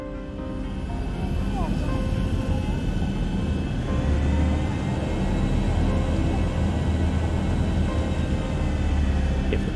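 A steady, loud low airplane engine drone fills the cabin continuously during cruise flight, with a constant whine on top and a voice talking over it.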